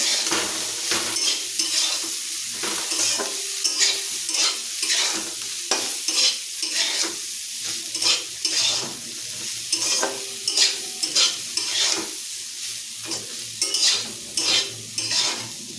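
Food frying in a pan with turmeric and salt, a continuous close sizzle under repeated rhythmic scraping and clanking of a utensil stirring against the metal, with no voices.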